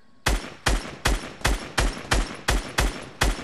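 Rapid gunfire in a video game: about nine loud, evenly spaced shots roughly every 0.4 seconds, each a sharp crack with a short tail, with no voices.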